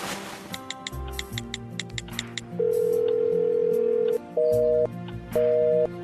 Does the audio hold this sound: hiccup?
no